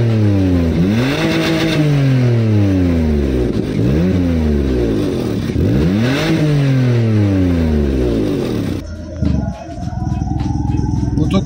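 BMW E39 520i Touring engine with a broken exhaust, revved hard several times in rising and falling sweeps, loud and close, with a raspy blatting tone before the revs drop and a rattle follows.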